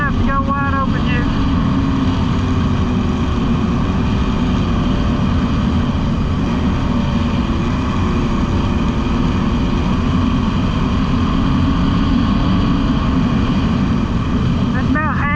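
Yamaha Superjet stand-up jet ski engine held at half throttle, giving a loud, steady, droning whine with rushing water noise that stays constant and close throughout.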